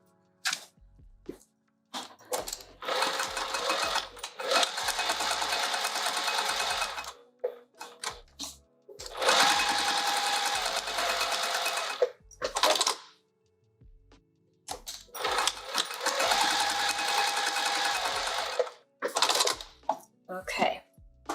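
Sewing machine stitching along marked lines on a fabric pouch for an Anna Maria Box, running in three long bursts with short pauses between them and clicks and handling noises in the gaps.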